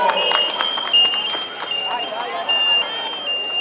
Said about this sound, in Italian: accogliamoli con un grandissimo applauso